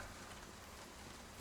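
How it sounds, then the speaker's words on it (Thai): Steady rain ambience in the video game One Way Home, a faint, even wash of rainfall running unbroken through the whole stretch with no voices. "บรรยากาศฝนตก"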